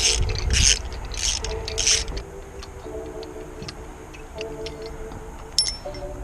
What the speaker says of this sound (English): get the puller nice and slack so we can take these bolts out of the crank, out of the pulley